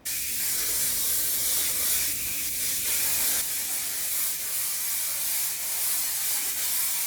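Aerosol hairspray, a firm-hold product, sprayed onto curly hair in one long continuous hiss, loud and close, with no talking.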